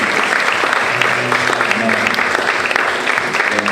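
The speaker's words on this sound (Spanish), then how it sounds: "Denle un aplauso al Señor." A church congregation at a priests' retreat applauds, a dense, steady wash of clapping hands filling the room, with some voices and cheers mixed in throughout.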